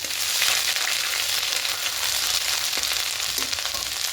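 Ginger garlic paste sizzles steadily in hot oil with bay leaves, a dense close frying hiss that runs the whole time with a few faint stirring scrapes.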